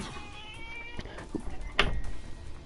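A cat meows a couple of times close by indoors, short tonal calls rising over low background noise from a live game review.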